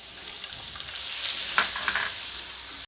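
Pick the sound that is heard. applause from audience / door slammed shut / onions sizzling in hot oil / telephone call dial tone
onions sizzling in hot oil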